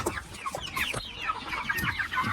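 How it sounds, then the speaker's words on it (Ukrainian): Young chickens, the older chicks of a backyard flock, cluck in busy overlapping bursts close by, with short sharp calls scattered throughout and no one talking. "Так, ну Це мої старші курчатка."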